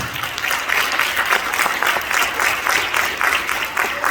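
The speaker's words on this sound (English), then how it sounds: "Let's give them a round of applause." Audience applause at a middle school event honouring the football team, steady rhythmic clapping from a crowd, loud and sustained for the whole stretch without talk.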